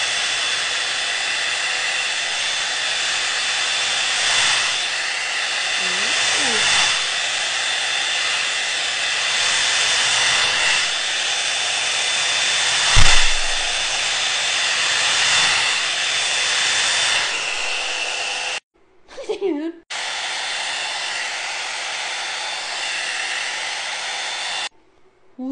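A Hodekt blower brush drying short hair gives a steady, loud airy whoosh for most of the time, cuts out briefly with a short rustle, then resumes at the same level.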